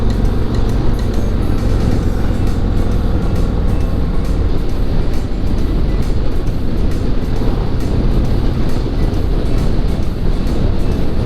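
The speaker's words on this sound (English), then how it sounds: "from 50 miles an hour in 6th gear, accelerates without lugging" A touring motorcycle pulls from 50 mph in sixth gear, its steady engine drone blended with heavy wind rush, loud and continuous throughout.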